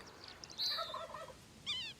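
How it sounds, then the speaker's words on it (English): Two bursts of a turkey's rapid, warbling gobble, the first longer and fuller, the second short, with quiet gaps between. "A wild turkey hen waits patiently."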